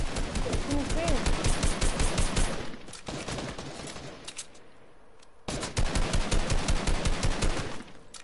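Rapid bursts of automatic gunfire crackle through a Fortnite match, loud and dense for most of the stretch, dropping briefly to quieter, sparser shots midway before the heavy firing resumes.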